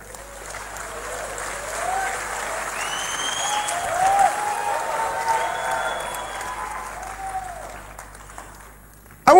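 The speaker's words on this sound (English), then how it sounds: "Clap." An audience at a motivational sermon breaks into steady clapping, a fairly even patter that swells slightly midway, with faint crowd murmur underneath and a sharp burst at the very end.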